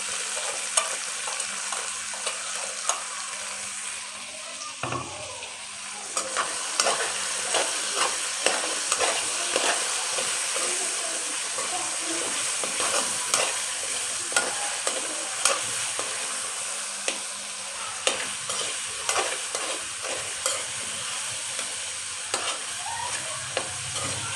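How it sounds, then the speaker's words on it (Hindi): Turnip and meat with salt fry in a pan for shaljam gosht: a sustained sizzle runs throughout, punctuated by frequent sharp stirring clacks and scrapes, with no talking. "दो मिनट के लिए इसको फ्राई कर लेते हैं अच्छा सा।"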